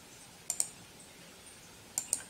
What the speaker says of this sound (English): I'm clicking the left button of the mouse,